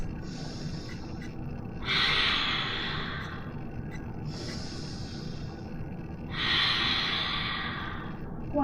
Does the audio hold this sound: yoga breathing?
yes